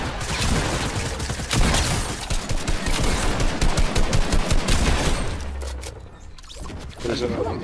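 Fortnite squad gameplay gunfire: rapid bursts of automatic shots and loud cracking fusillades fill most of the stretch, with players talking over the shooting.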